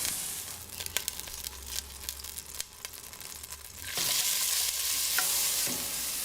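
Ingredients cook down in a pan with a steady sizzle and frequent stirring scrapes, the frying growing louder and denser partway through, with no voices.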